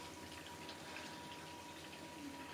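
Dyed coolant pours into a hard-line water-cooled PC loop as air works its way out, a faint, steady trickling wash with a low pump-like hum underneath and no voices.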